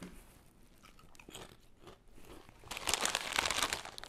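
Rap Snacks cheddar-style ruffled chips with a little spice and a dab of ranch, crunched and chewed loudly with open-mouthed smacking. Crinkly bites are soft at first, then grow dense and loud in the second half.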